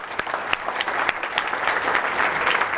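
An audience claps steadily, a dense stretch of applause from a crowd, no voices over it.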